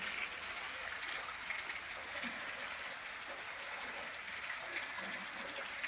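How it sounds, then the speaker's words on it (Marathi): Heavy rain falling steadily with running water, a continuous even hiss and patter at moderate level throughout, no voices. "बघा कसं पाऊस आहे पाऊस पाऊसच आहे पाऊसच पाऊस तीन दिवस झाले पाऊस चालू आहे"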